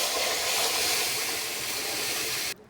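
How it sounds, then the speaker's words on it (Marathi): Boiled rajma and its cooking water hit hot, oil-rich masala in a pan and set off a loud, continuous sizzling hiss close up. It fades slightly before stopping abruptly near the end. "इथे आपल्याला पाण्यासहित राजमा घालायचा मध्ये।"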